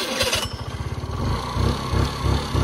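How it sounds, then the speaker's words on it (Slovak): A scooter engine runs close by, its rapid putter revving and settling in loud uneven pulses with no voices over it. "Počúvaj tento motor"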